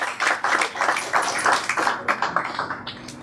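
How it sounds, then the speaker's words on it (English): Steady applause from a conference audience, dense rapid clapping that holds throughout and thins slightly toward the end. "A round of applause for her, please."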